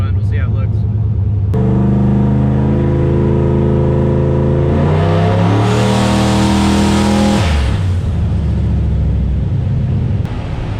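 Turbocharged Foxbody Mustang with an On3 turbo kit and Holley Terminator X on its first tuning run, the engine starting and revving up and down loudly with rising and falling tones, a voice briefly audible at the start.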